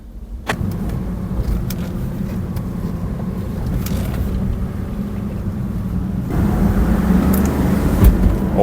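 Twin-turbo V8 Porsche, roughly 450 hp, pulling away on its first drive with boost: a close, steady engine drone from inside the car that builds noticeably louder near the end.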